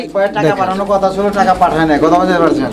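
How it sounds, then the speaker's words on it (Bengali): A pigeon at a pigeon seller's coop coos nearby in loud, throaty, repeated phrases that rise and fall without a break. "আমি একটু কবুতরটা দেখাই"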